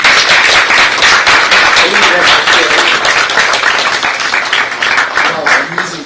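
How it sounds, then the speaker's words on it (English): An audience applauds a college team at a business school awards event, sustained, loud, dense clapping from many hands throughout. "We'd like to clap for you, the entire team."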